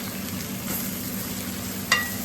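Aubergine fries in leftover oil while being stirred, a soft steady sizzle with a brief utensil clink near the end and no voices.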